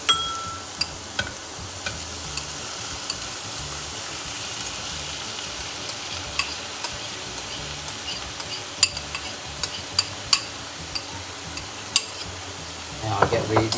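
Carrot and soy meat stir-fried in a pan for a vegetarian sticky mi sua, a continuous bright sizzle with frequent small scraping and tapping strokes of a utensil, ending with a louder clatter, and no talking.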